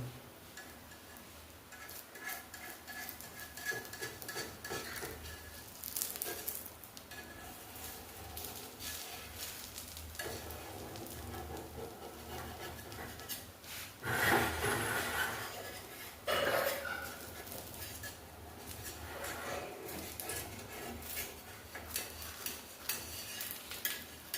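Kheer being stirred in a pot with a spoon so it won't stick to the sides: quiet, irregular scraping and light clinks of metal on metal, continuing for a long stretch, close by.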